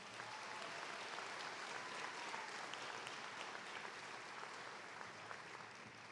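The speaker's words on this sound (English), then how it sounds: "Let's give them another round of applause." Sustained applause from a large crowd at a spring commencement ceremony, steady and even throughout with no break.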